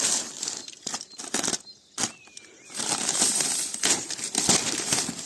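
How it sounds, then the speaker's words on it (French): Plastic packaging is crinkled, torn and pulled off a new homemade refrigerated trailer, with loud, close, irregular rustling bursts and a short pause midway. "On va déballer donc, notre remorque."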